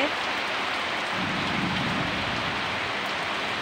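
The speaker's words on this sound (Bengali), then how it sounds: "কি প্রচণ্ড বৃষ্টি হচ্ছে।" Heavy midday rain pours down steadily, a dense, loud, continuous wash of falling water that drips off leaves, with no speech over it.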